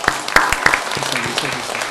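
A church congregation breaks into applause with a few sharp, separate claps that build into a scattered patter. A voice talks over the clapping.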